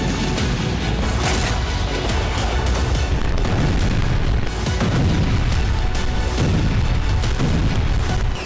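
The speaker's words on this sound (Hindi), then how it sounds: "एक जोरदार धमाके से इलाका दहल उठा।" A powerful explosion on a gas pipeline near Rostovka in Omsk, Russia, comes through as a dense, loud roar of booming blasts and rumble that continues without a break for the whole stretch.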